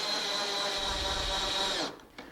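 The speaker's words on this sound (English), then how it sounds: "For the number 8 screws, you pre-drill with a 5/64 inch drill bit." A power drill boring pilot holes with a 5/64 inch bit for number 8 screws while mounting hardware on a Mission-style wooden bed, a steady close whine running about two seconds before it cuts off.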